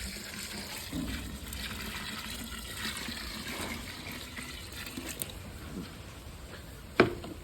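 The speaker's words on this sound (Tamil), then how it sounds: "இப்போது 4 லிட்ரு கோமியத்தை ஊற்றுறோம்." Four litres of cow urine pour into a container for making panchagavya, a steady liquid gush running continuously with a sharp knock near the end.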